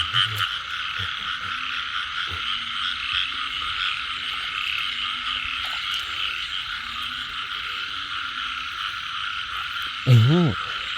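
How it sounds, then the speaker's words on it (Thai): Frogs croak in a dense, continuous chorus during the rainy season, with a steady loud wash of calls holding throughout and a brief sharper call near the end. "ชมโอ้ยกบคู่ชมชม"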